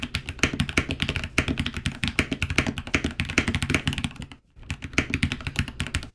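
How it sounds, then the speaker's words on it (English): Rapid, steady clacking of a mechanical keyboard being typed on up close, with a brief pause near the end before the typing resumes. "This is a really good entry-level professional mechanical keyboard you can get"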